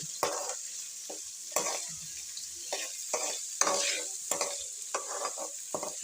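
Steady sizzle of onions, green chilies and curry leaves frying in a pan for semiya upma, with repeated scraping strokes of a spatula stirring, close up, no talking.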